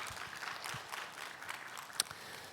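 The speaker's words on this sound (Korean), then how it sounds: "우리 최선을 다한 우리 찬양팀을 위해서도 우리 한번 격려의 박수 드리겠습니다." A church congregation claps for its worship team, a faint, scattered patter of hands at a distance with one sharper clap standing out.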